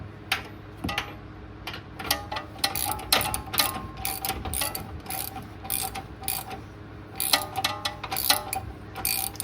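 A ratchet drives control arm bolts into a Nissan Rogue, making quick bursts of close, crisp clicking pawl strokes separated by brief pauses, with no voices.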